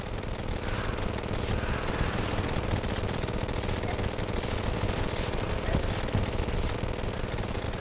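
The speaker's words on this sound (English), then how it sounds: "We got a candy corn rifle now." The candy corn rifle fires in Terraria as a rapid, continuous stream of game gunshots, a dense steady rattle that stays at an even level the whole time, with no voices.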